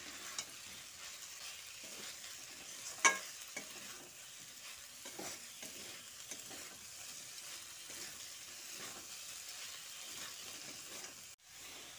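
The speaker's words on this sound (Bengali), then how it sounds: "সোয়াবিনটা দিয়ে মশলার সঙ্গে ভালো করে কষিয়ে নিচ্ছি।" Soaked soybeans fry with spices in a pan for a soybean and potato curry, giving a soft continuous sizzle broken by intermittent spatula scrapes and stirring clicks. A louder clunk comes near the end, and no one talks.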